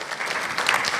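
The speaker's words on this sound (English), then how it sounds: "Please give them a round of applause." Audience applause at a national championship launch event, a loud, dense burst of many hands clapping together with a few brighter claps standing out.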